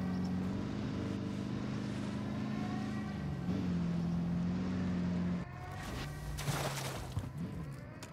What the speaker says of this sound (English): Coney armored helo is overhead.